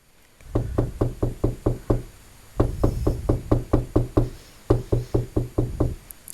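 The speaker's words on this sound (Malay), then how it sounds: "rumah Ustaz diketuk orang bertalu-talu" Someone raps on a house door in the middle of the night in three quick bursts of about seven knocks each, each burst urgent and evenly paced, with short pauses between them and no voices.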